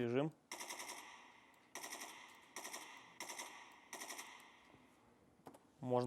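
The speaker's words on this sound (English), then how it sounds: "Switching to full auto" Full-auto rifle fire in the video game Escape from Tarkov rips out in five rapid, loud bursts separated by short pauses, with a voice speaking briefly just before and after.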